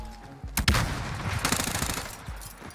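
A mini rocket gun firing in the video game Warzone: a loud burst of sharp shots, then a run of quicker rapid reports that fade toward the end, with no talk.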